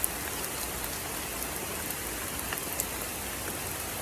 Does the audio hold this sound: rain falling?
yes